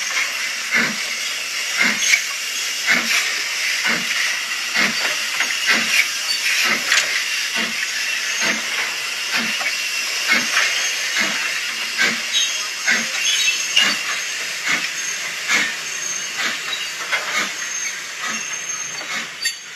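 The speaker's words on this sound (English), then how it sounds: "The loco seen here working on my exhibition layout, which is called Bottom Works Sidings." An upgraded Hornby Austerity 00 gauge model locomotive with a DCC Concepts decoder and stay alive runs on an exhibition layout, giving a steady steam-like hiss with regular rhythmic chuffs and faint rail clicks, close and continuous.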